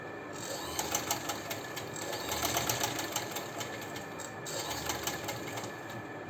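A sewing machine runs steadily while stitching a sleeve, giving a continuous mechanical whir with rapid needle ticking throughout, moderately loud and close, with no talking.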